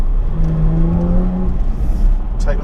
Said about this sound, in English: It revs so well for a V6.